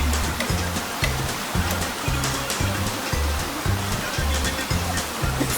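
Mt. Camel Falls, a waterfall in Grenada, roars as a steady broadband wash of falling water close by, while a low rhythmic thumping pulses underneath throughout.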